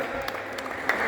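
Crowd applause at a badminton final in a doubles match, a steady bed of clapping through the clip with a brief louder swell near the end.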